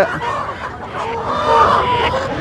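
Several chickens cluck and squawk close by, in a busy overlapping chorus over a noisy background.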